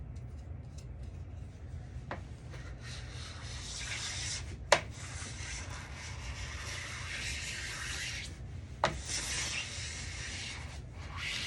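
Plastic scraper drawn along a freshly waxed ski, a soft continuous scraping rub close by, with a few sharp clicks and taps as the scraper is repositioned.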